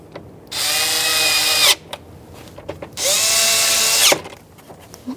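Power driver running screws back into a Jeep Wrangler interior panel, two high-pitched whirring bursts of about a second each, separated by a short pause with small clicks and handling noises, close and alone.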